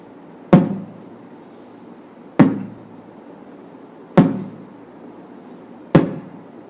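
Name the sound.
beatbox kick drum imitation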